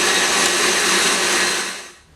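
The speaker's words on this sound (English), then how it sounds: "Mix the butter and sugar until it's creamy." Stand mixer with a whisk attachment creaming butter and sugar, a steady loud whirring motor hum that holds for about two seconds, then trails off.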